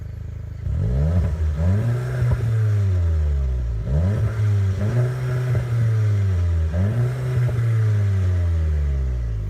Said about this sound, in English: I think we might have to turn on the Subi.